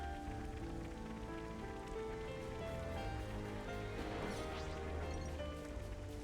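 Rain weather in the video game Xenoblade Chronicles 3, a steady wash of falling rain under a low sustained musical drone, faint and continuous.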